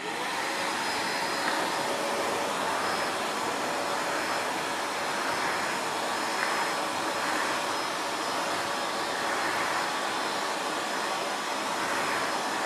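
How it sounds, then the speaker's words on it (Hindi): An AGARO Rapid 1000 W, 10-litre wet and dry vacuum cleaner runs close and loud, giving a constant, dense motor whine and airflow rush that holds steady for the whole stretch, with no talking. "अगर आपको वेट वैक्यूम करना है तो भी आप आराम से कर सकते हैं मैं आपको यहाँ पे डेमो दिखा देता हूँ"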